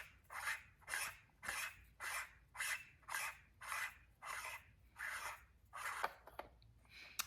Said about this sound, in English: You can just unscrew this whole assembly that's turning right here.